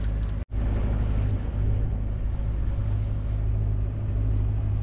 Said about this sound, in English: After a long cruise with the gentle thrum of our engine, our constant companion, we made it into the Nazaré Marina.